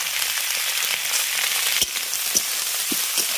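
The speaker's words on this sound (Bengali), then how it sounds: "লবণ দিয়ে পেঁয়াজ কলিটাকে ভেজে নেবে" Spring onion stalks fry with salt in a pan, giving a steady close sizzle of oil punctuated by a few sharp taps from a stirring utensil, with no voices.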